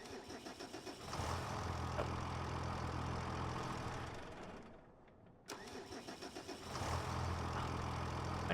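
Agco tractor, model 8510, starting up in a farming simulator game: the starter cranks and the engine catches into a steady rumbling idle, cuts out briefly, then cranks and fires again, close and clear with no talk.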